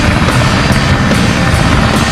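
A plane in the Dreamcast video game Sonic Adventure gives off a loud, steady, unbroken engine roar that fills the whole short stretch, with no voices over it.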